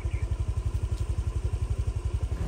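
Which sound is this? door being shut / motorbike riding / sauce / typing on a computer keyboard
motorbike riding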